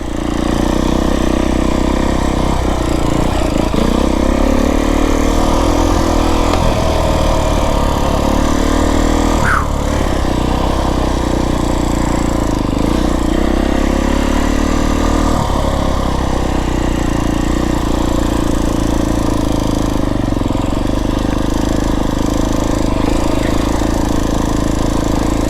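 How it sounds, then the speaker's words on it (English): A Beta 350rr X-pro dirt bike chugging uphill in second gear on a mountain trail, its loud, close engine drone holding steady with brief surges and dips as the throttle changes, no voices heard. "that's just chugging through second gear"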